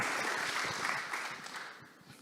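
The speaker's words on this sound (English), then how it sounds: "Big round of applause for Juan as well." Audience applause at a physics and literature dialogue event, a brief, fairly faint patter of clapping from a seated crowd that thins out toward the end.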